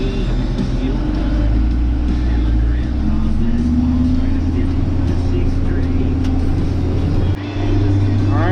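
Terragator applicator vehicle grinding through deep mud, its engine a loud steady low rumble throughout with a rising whine as it is put in drive, one brief dip near the end.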